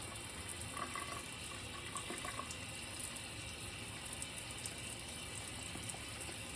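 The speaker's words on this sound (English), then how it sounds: "I'm just going to put this in water" Tap water runs steadily into a sink while houseplant leaves are washed with soap and rinsed, a continuous close splashing hiss with no talk.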